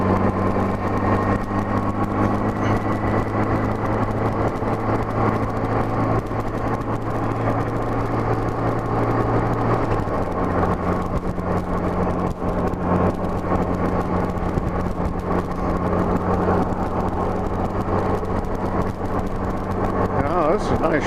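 A Honda GL1200 Gold Wing motorcycle cruises a country road with a steady engine drone and constant wind rush, one gear change partway through, heard from the rider's position.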